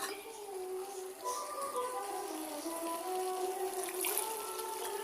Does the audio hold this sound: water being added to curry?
yes